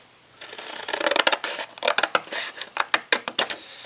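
Scissors snip corner pieces off a paper explosion box, a quick series of sharp close crisp cuts with short pauses between them, no talking.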